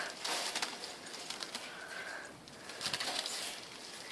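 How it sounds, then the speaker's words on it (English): A bird trapped inside a cage with its mate close by, giving soft coos and flutters of wings against steady broadband noise, fairly near and with no talk. "there's a bird stuck in the cage"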